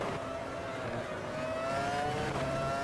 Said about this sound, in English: Driving today in Rubens Barrichello's Ferrari